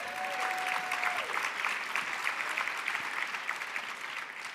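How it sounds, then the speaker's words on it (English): Audience applause at an awards ceremony honouring alumni, a steady, dense wash of clapping from a large crowd that fills the whole stretch at moderate level, with a faint tone briefly audible early on. "you can clap,"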